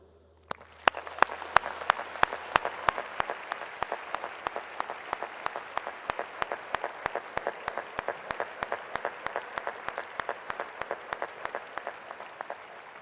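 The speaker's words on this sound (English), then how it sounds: "please join me in a round of applause for this network of your staunchest supporters" A large audience applauds in a hall at a university doctoral hooding ceremony, a dense wash of clapping with a few nearer, sharper claps punctuating it steadily throughout.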